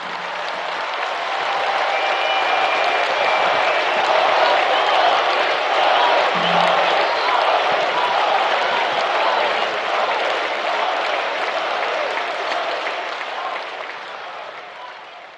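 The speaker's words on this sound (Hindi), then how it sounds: "आप जोर से तालियां बजाकर उनका फिर से अभिवादन" Loud, sustained applause from a large audience at a Hindu religious gathering honoring the Prime Minister, a dense wash of clapping with some cheering that swells and holds for about fifteen seconds before easing slightly.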